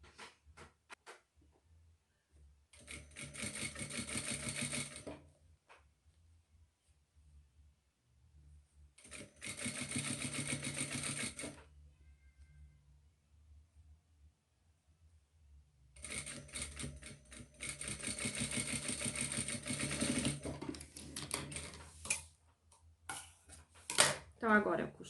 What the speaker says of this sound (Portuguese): vou passar uma costura bem na beiradinha